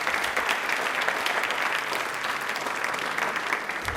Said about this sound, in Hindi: इसके लिए एक बार तालियां बजा दीजिए जोरदार